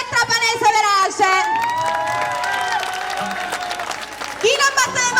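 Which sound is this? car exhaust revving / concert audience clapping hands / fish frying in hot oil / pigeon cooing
concert audience clapping hands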